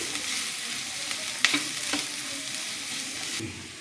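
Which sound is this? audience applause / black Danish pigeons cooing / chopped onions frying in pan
chopped onions frying in pan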